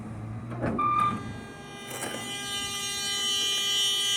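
A school bus side emergency door clunks open, then a steady electronic alarm tone starts and keeps sounding, close by, with no voices over it.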